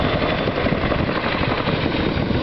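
A heavy tandem-rotor Chinook helicopter, about 15 tons, flies past at an air show with a loud, continuous roar of rotors and engines that holds steady throughout, with no voices over it.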